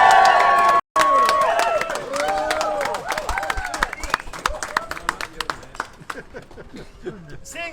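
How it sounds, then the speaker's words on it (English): Crowd in a pub applauding and cheering for the staff at a beer award, starting with loud whoops and whistles, then breaking into a long run of claps that thins out toward the end. "so please give them all a massive round of"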